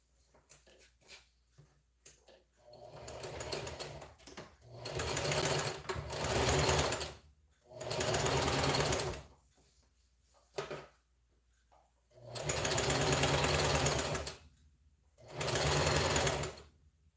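Sewing machine stitching a front twist headband at a half-inch seam, running in several loud close bursts of rapid whirring separated by short pauses and a few faint clicks.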